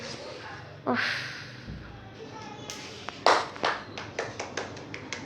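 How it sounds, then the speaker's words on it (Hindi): Hands clap in a quick run of sharp, separate claps that speed up toward the end, close and fairly loud, after an earlier shuffle and a gasp-like breath. "वाह गाइस वाह, ताली ताली"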